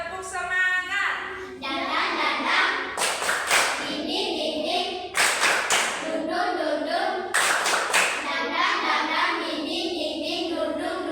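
Children in a classroom perform a rhythmic group clapping routine, three bursts of patterned claps separated by chanting voices, close and lively.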